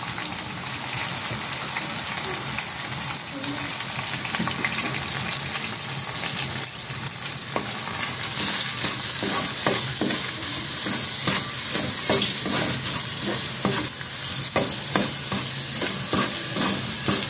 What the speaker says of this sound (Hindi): लहसुन सॉफ्ट हो गया हमारा सॉटे।